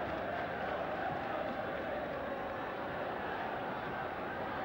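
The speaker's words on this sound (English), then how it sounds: "Southampton fans making their appreciation heard." Southampton football fans cheer and roar in a stadium, a dense, steady crowd wash that holds loud and unbroken throughout.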